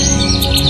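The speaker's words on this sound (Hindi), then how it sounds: "पक्षियों का ये कलरव," Forest birds chirp and call together in a dense, steady chorus of bright tweets, loud and close with no pauses.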